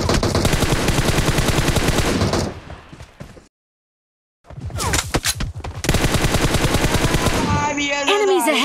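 Rapid automatic gunfire bursts in an online shooter game, loud dense volleys that cut out briefly into silence before resuming with more bursts and clattering shots.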